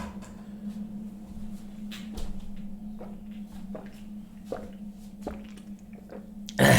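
A bottle of water is opened with a string of small plastic clicks and crackles spread over several seconds, set against a steady low hum in a quiet indoor room.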